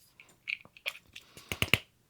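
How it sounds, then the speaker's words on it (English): 3D printed filament with lengthwise layer lines, used in clock gears, grabbing as it is slid onto itself, giving a series of short dry snapping clicks that grow louder and quicker toward the end, close up with no talking. "what those sounds you're hearing is this filament grabbing when I try to slide it onto itself."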